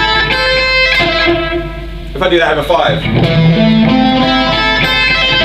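Distorted electric guitar plays a sweep-picked arpeggio with uneven timing, the pull-off notes rushing ahead, ringing loud and close after a few spoken words.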